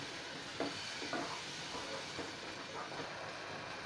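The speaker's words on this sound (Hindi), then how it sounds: "और अभी डालेंगे 2 बड़े साइज का टमाटर प्यूरी, टमाटर को भी अच्छे से भूनना है।" Tomato puree fries in a pan for a Hindi-style methi aloo dish, giving a faint, steady sizzle with a few soft scraping stir strokes near the listener.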